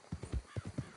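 Horse hooves clip-clop steadily in Red Dead Redemption 2, a quiet, even gait of about six soft thuds in one second with no talk over it.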